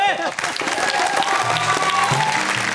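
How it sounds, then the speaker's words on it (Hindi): An audience at a Hindi poetry and comedy show claps for a performer, a dense burst of clapping that begins right after a brief sung voice and carries on steadily. "तुक तुक ताली बजाओ"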